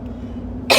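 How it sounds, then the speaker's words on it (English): A single short, sharp cough bursts out after a low, steady background hum, close and loud. "I got a cough."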